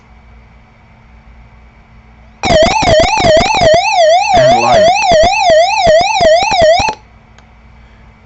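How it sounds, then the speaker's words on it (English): ARCBLD emergency hand crank radio's built-in SOS siren wails loudly and close, a rapidly warbling electronic tone rising and falling for about four and a half seconds before cutting off, with a brief spoken remark nearby. "This is an SOS siren."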